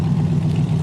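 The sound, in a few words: 1963 Buick Riviera exhaust note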